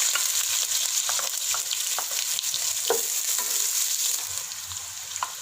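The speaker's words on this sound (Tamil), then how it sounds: "பச்சை மிளகாய் சேர்த்ததும் வெட்டி வச்சுருக்க வெங்காயத்தை உள்ள சேர்த்துங்க" Chopped onions and green chillies frying in hot oil for veg pulao, a steady close sizzle with scattered stirring scrapes and spatula taps throughout, no talk.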